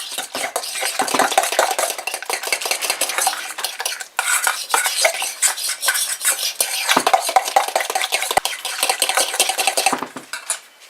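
Dog cookie dough with eggs being mixed in a bowl: a busy, continuous run of spoon-on-bowl scraping and clattering strokes, close and fairly loud, with no voices.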